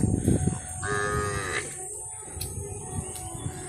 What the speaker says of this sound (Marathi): इथे बघू शकता जवळजवळ 56 गायी या इथे बंदिस्त इथे त्यांनी करून ठेवले